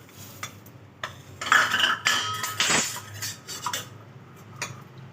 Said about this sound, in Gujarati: હવે આવી રીતના મિક્સ કરીને આપણે બધું આમાં મિક્સ કરી દઈશું.